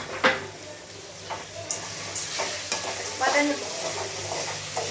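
Tomatoes go into a hot pan for Tamil-style fish kulambu, a loud, steady sizzle and frying hiss with occasional stirring scrapes and clinks close by.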